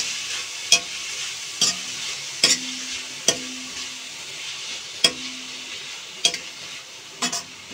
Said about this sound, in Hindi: जब तक ये हमारी पालक भुनती है